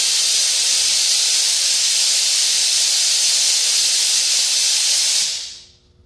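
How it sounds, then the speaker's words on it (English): A workshop air compressor lets out a loud, continuous hiss of escaping air that holds steady for several seconds, then tapers off and falls silent. "I hate that compressor."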